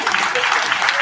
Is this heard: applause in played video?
yes